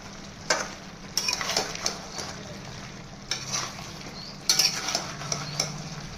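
Ginger paste with Kashmiri chili powder and turmeric sautés in a pan as a soft steady sizzle. A spoon stirs and scrapes against the metal in irregular clinks and knocks, with no talking.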